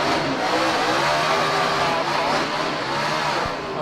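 A NASCAR stock car engine at the 2006 Dodge/Save Mart 350 road race roars and revs continuously, loud and fairly close, with a steady, dense mechanical drone throughout.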